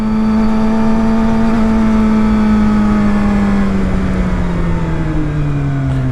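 A Suzuki GSX-R750 motorcycle engine pulls up a steep hill in low gear, a loud, steady, close drone whose pitch sags slowly toward the end.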